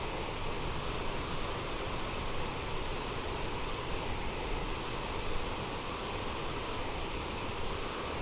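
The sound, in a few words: Aerosoft CRJ jet engine in Microsoft Flight Simulator 2024, video game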